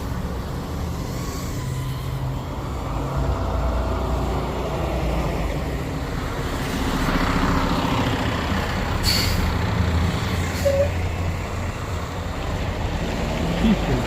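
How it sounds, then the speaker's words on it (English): A truck rumbles past at a distance, a low diesel drone swelling and fading with a faint hiss of air brakes, over outdoor background noise. "a truck coming."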